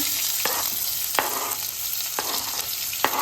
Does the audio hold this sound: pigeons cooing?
no